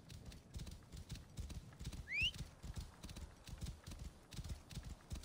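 Horse hooves clip-clopping steadily on soft ground in the video game Assassin's Creed Origins, a continuous trotting rhythm with a brief rising whinny partway through, moderately close and without speech.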